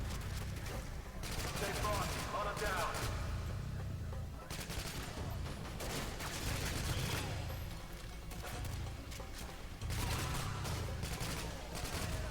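Sustained gunfire in Call of Duty: Modern Warfare 2, dense rapid bursts and automatic fire rattling almost continuously, with brief lulls before heavy volleys resume, loud and close, with speech underneath.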